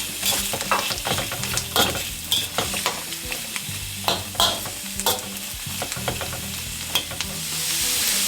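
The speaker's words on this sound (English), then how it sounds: "put in the aromatics, the onions, carrots, and the celery" Onions, carrots and celery sizzle in a stir-fry pan, with a loud, close crackle and a frequent irregular rhythm of scraping and tossing strokes over a constant frying hiss.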